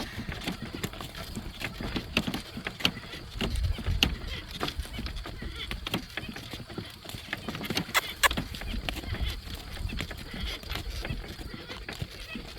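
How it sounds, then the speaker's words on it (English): Steady clip-clop of horse hooves at a brisk, even pace, with harness jingles and rolling noise, continuing throughout at moderate volume. "back to driving my horse"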